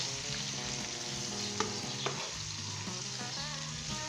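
A potato, pea and carrot curry with fried onion is stirred in a hot pan, with soft scraping strokes over a steady sizzle and a couple of sharp clinks of the spoon against the pot.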